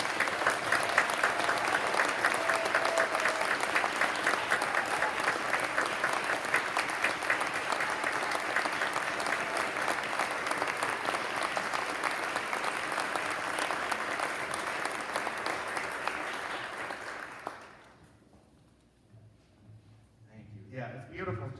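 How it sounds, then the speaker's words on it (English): Sustained audience applause for students after a folk performance, a dense, steady clatter of many hands lasting about seventeen seconds, then fading abruptly into near silence. "So can we give the students one last round of applause, please?"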